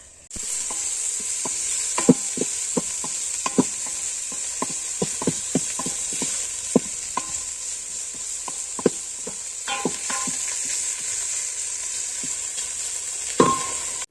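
Meat frying in a pan for home-cooked chow mein, a steady close sizzle running throughout with repeated sharp clicks and scrapes of stirring, a louder scrape near the end.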